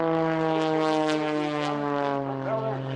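An American-built Lycoming engine drives an MX2 aerobatic airplane at full power during an airshow display, a loud steady propeller drone with strong even harmonics, holding close and constant throughout without talk.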